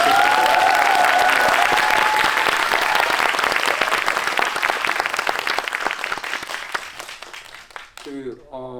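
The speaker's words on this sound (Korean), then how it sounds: "큰 박수 한번 보내주십시오." A film screening audience applauds an actor at a Q&A for the Netflix movie Carter, loud dense clapping that gradually thins out before a voice begins speaking at the end.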